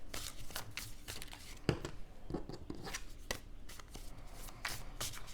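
Tarot cards are shuffled by hand in quick repeated riffles and taps, close and crisp, with brief pauses between bursts.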